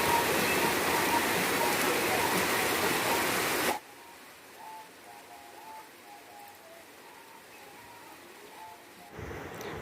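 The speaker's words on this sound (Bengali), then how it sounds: "বৃষ্টি দিয়েই তো সকালটা শুরু হলো।" Morning rain pours down as a loud, dense hiss for about four seconds, then cuts to a much quieter background with faint tonal sounds before the rush briefly returns at the end.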